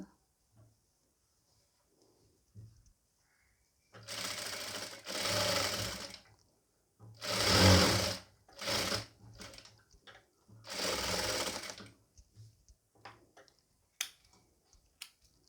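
A sewing machine stitches fabric pieces for a nighty in several bursts of rapid mechanical whirring, each lasting about a second or two, with quiet pauses between them. The machine sounds close.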